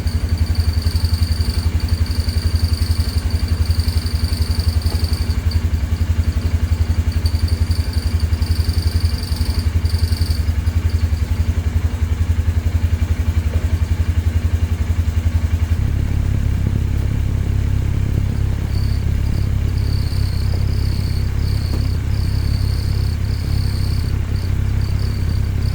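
A Polaris 570 EFI engine idles loud and close at about 1400 rpm with a faint hesitation, a continuous low rumbling pulse that thickens and deepens midway through, with a high whine above it and no talking.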